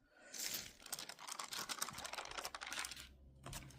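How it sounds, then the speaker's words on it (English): Parchment paper crinkles and crackles close by while DMC labels are ironed beneath it, a busy, uneven rustle that keeps going with a brief pause near the end, fairly faint, with no speech. "I know the sound of the parchment is really annoying"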